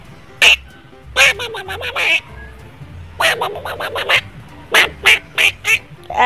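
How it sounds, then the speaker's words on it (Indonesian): A toy duck gives loud, close quacks in short repeated bursts, some in quick clusters of several calls, with pauses between them. "ini dia teman-teman bebek Pio-nya"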